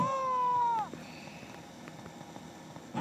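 A cartoonish cat meows in the video game Tasty Planet Forever, one drawn-out clear meow at the start followed by quieter game background noise and small clicks.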